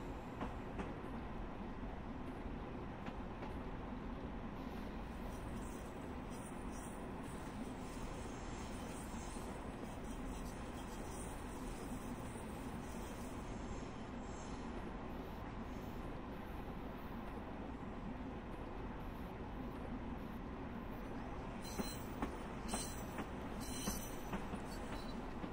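A Long Island Rail Road train runs at speed, giving a steady, continuous rumble and roar with faint high squeals and rattles, constant and close throughout, with no talking.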